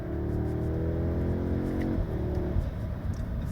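A 2025 Audi S3 with a 2-litre turbocharged four-cylinder and 7-speed gearbox accelerates hard, its engine drone climbing steadily, dipping at a gear change, then pulling again, heard loud from inside the cabin.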